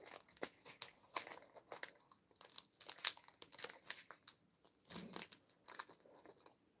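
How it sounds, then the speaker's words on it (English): A plastic packet of diamond art supplies crinkles and crackles as it is torn open, with dense close rustling, small snaps and tearing sounds throughout, fairly quiet. "I think I've just opened another bloody packet."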